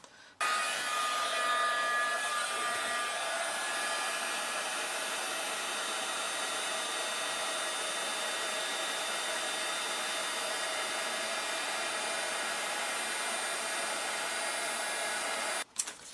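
A heat tool blows loudly and steadily at close range, heat setting embossing powder on a holiday card, with one continuous whooshing roar that cuts off abruptly at the end.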